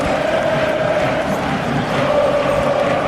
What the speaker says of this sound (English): The Egyptian fans are cheering the team on, so too are the South African fans